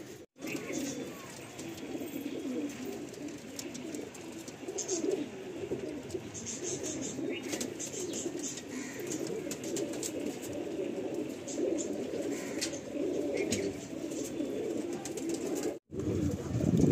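Madrasi pigeons coo in a loft at Bankra, Howrah, with soft overlapping calls repeating steadily at close range and faint background sounds between them.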